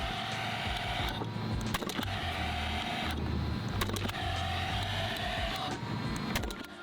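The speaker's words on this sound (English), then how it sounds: "Shooting the cordless siding fencing nailer into LP Smart Side." A Paslode cordless coiled siding nailer drives galvanized nails into LP SmartSide siding: a sustained motor whir cycles on and off, broken by a few sharp, loud shots nearby, with no one talking.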